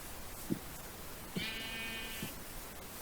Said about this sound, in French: Ah, bah il y a plein de moutons par là.